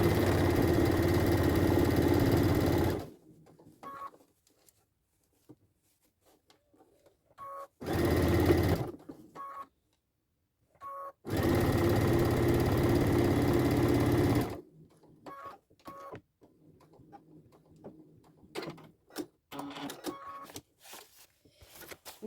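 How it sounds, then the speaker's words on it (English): A sewing machine stitches the seams of a lined fabric pouch in three loud, steady bursts of close whirring. Quiet gaps between the bursts hold soft clicks and fabric handling. "Now I'm going to sew the rest together"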